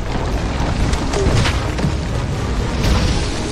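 A grenade launcher fires in the video game Heaven Dust 2, a deep, heavy boom with a rumbling, noisy tail that fills the whole short moment.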